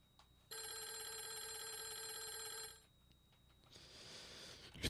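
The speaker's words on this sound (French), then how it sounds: "Le téléphone." A telephone rings in the video game Clock Tower: The First Fear, one long, bright electronic ring lasting over two seconds, followed by quieter game ambience and a faint rising noise.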